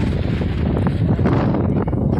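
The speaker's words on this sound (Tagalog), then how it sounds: "Mahangin." Wind buffeting at the summit of Bulalacao Hills in Libmanan, Camarines Sur, a dense steady low roar and gusting rumble against the microphone, continuous and close.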